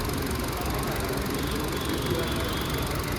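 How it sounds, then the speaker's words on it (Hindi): Engine of a 2025 Hyundai Verna SX running, a steady, fairly quiet hum with a faint knocking texture, even throughout. "और इंजन की आवाज अगर मैं आपको सुनवाऊं"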